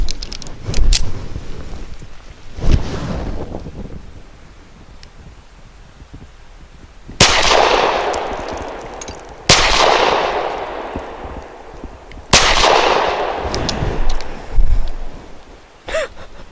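Kel-Tec PF-9 compact pistol firing Inceptor 65 grain rounds: three sharp, loud shots spaced a few seconds apart, each with a decaying echo, preceded by quieter handling clicks and rustling.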